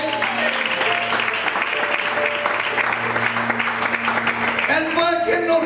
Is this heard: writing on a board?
no